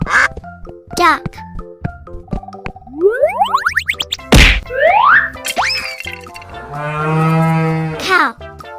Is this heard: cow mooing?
yes